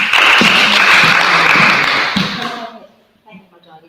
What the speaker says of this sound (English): thank you for the clapping